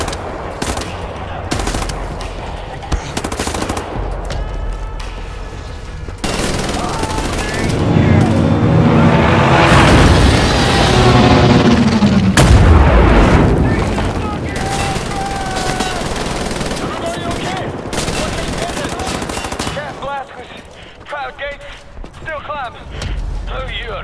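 Loud, sustained automatic gunfire and explosions fill a firefight on the Deathshead's Compound mission of the video game Wolfenstein: The New Order, with shouted voices over the bursts.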